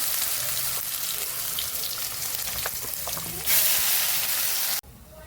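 Ground red chillies dropped into hot oil for a red chilli chutney, giving a steady, close crackling sizzle that swells briefly louder before cutting off.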